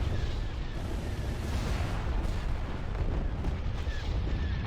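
Explosions from a space battle in the strategy game Star Wars: Empire at War, involving a Star Destroyer. A dense, continuous rumble of booms carries sharper bursts throughout, loud and alone without talk.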